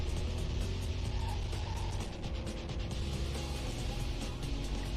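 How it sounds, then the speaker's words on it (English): A car engine in the racing video game Hot Wheels: World Race makes a steady, dense mechanical whirring drone with a ratcheting texture, loud and continuous throughout. "started noticing the sound of this car's engine, or sound of the car's engines in general"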